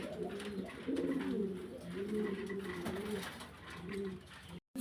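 A pigeon coos repeatedly in soft, low, rolling phrases, close by and steady against faint room noise, with no talking.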